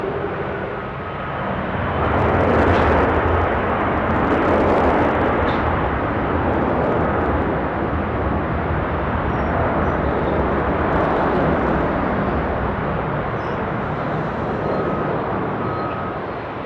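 A Qantas 747 jet on the runway at Sydney Airport at night gives off a loud, sustained broadband roar that swells early, then holds steady before easing slightly at the end.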